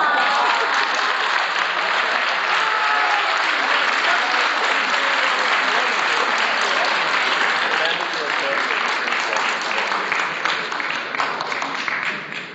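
Sustained applause from a large audience at a lecture, dense and steady throughout, tapering slightly near the end.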